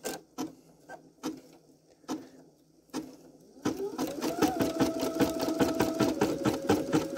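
An embroidery machine stitches 3D puff foam: a few isolated stitch taps at first, then a steady, rapid rhythmic needle chatter with a rising motor whine once it runs continuously.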